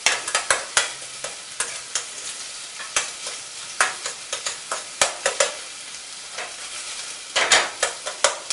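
Chopped onion frying in a stainless steel pan, a steady sizzle broken by repeated sharp scraping stirs at close range, with no voices.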